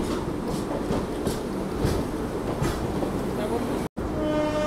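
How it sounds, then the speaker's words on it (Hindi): Two trains pulling into Kanpur Central station side by side, a steady rumbling roar of rolling stock with a brief dropout near the end, heard alone at close range. "दोनों ट्रेनों का पैरेलल अराइवल देखिए कानपुर सेंट्रल पे"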